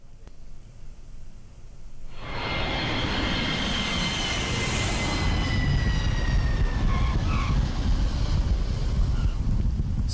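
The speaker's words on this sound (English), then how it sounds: "Heathrow Airport is going to blast the soundtrack of jet engines and beeping scanners throughout the summer" Recorded jet engine noise at Heathrow Airport: a quiet stretch gives way to a loud, steady broadband roar with faint rising whine tones, sustained without talk.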